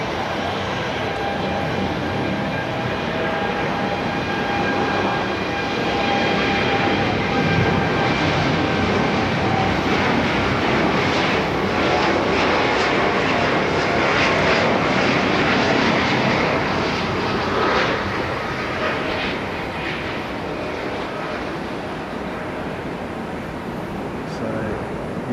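Jet airliners roaring on takeoff at Haneda airport in Tokyo, a steady loud engine rumble that swells and fades over the whole stretch as planes depart from busy runways.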